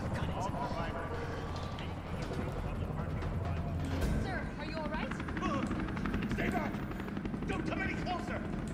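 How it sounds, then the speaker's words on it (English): A video game helicopter hovers with a steady, loud rotor drone throughout, mixed with scattered game effects and a voice talking over it. "There's a helicopter waiting to take you to safety."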